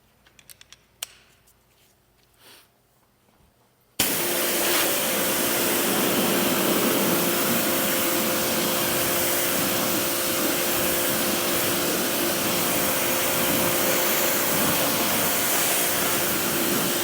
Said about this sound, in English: And we'll give it a thorough rinse.